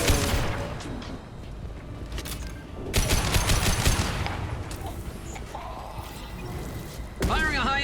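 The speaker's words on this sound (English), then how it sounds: "Firing a high-impact shot." Sci-fi gunfire from the video game Mass Effect 2, a dense fusillade of repeated shots and booms mixed with game voices and effects, loud and continuous over the whole stretch.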